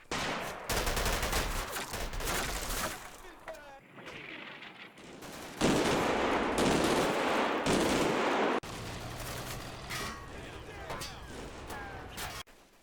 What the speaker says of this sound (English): Artillery gets called in on Troina to hit the last Flak 88.